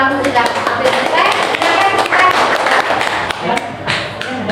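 Students clap in a classroom during a teaching practice session at a junior high school, a dense run of sharp hand claps lasting several seconds with voices mixed in underneath.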